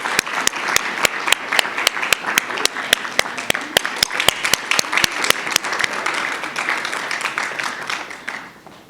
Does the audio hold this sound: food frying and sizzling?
no